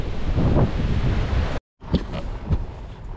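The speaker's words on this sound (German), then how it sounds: "So einen Wind haben wir hier." Strong gusting wind buffets a camper van on Crete in rough, rainy weather, a loud broadband roar that cuts out briefly and returns in surges, with no voices.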